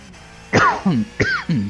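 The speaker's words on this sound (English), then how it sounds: "I've got a little bit of a cough." A person coughs twice, close and loud, each a sharp harsh burst that trails into a rougher throaty tail, with a brief pause between them.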